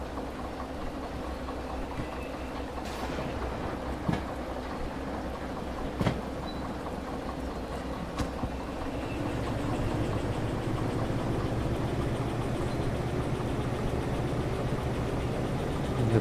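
A train in the video game Custom Cargo Cult rumbles steadily as a continuous low roar, with a few sharp clanks and a slight rise in level partway through, and no talk over it.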